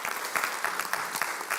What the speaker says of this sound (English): let's give him an applause